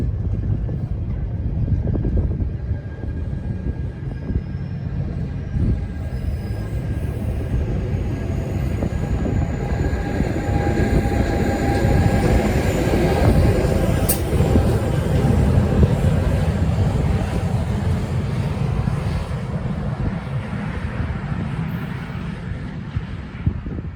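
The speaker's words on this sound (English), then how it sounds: "The first train we witness here is NJ Transit train number 5176, which is an afternoon train from High Bridge" NJ Transit commuter train 5176, an afternoon run from High Bridge to New York Penn Station, rumbles past trackside in New Jersey. A steady, loud low roar lasts throughout, with wind buffeting the microphone and no speech.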